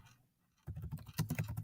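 Fast typing on a computer keyboard enters text in Adobe Spark Video, a rapid, close patter of keystrokes after a brief quiet pause, with no voice.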